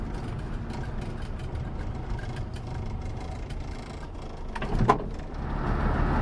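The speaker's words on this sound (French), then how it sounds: "on va faire chauffer le moteur" A classic Mini's engine runs as it warms up after a valve adjustment, a steady low idle hum with a brief mechanical clunk near the end before the engine note rises slightly.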